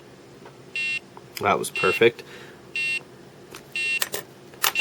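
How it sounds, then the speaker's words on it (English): A Nintendo Game & Watch alarm goes off in four short, bright electronic beep bursts, spaced about once per second and fairly close, while a person talks and handling noises fill the gaps. "The Game & Watch starts beeping"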